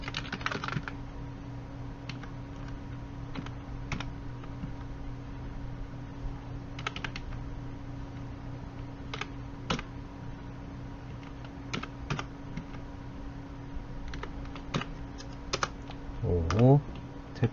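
Steady typing on a computer keyboard, including Enter and Tab key presses, goes on throughout in a quiet room as a soft run of close clicks over low background hum, with a brief louder burst near the end.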